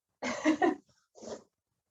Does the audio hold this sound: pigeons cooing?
no